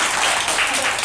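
A dense burst of applause from many hands, steady and fairly loud throughout.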